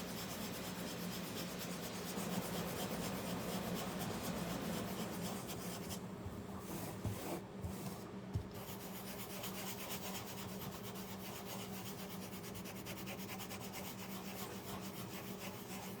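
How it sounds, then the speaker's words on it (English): Sandpaper lightly rubs back and forth over a polar bear DIY craft kit, a steady close rasp that continues almost throughout with a brief lighter pause. "Let's go over it just kind of lightly. Just a light little sand."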